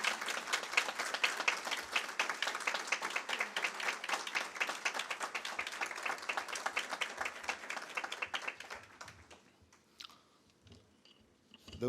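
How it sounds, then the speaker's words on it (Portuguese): An audience applauds the honoree Álvaro Perim at a solemn session of the Brazilian Bar Association's Rio Claro subsection, with dense, steady clapping that goes on for about ten seconds, then thins out into a few scattered claps. "Aplausos, então"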